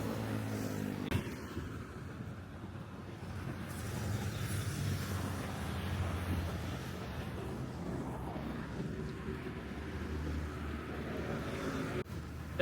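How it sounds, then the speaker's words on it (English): Motorbikes and cars speed past in heavy traffic at the busy Singapore–Malaysia land border, a continuous rushing roar with passing swells close by and a sharp knock near the end. "you can see the speed at which the motorbikes and the cars are zooming by me"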